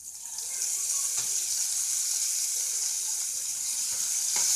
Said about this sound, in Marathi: याच्यामध्ये आपण आता ही भिजलेली तूर डाळ घालूया.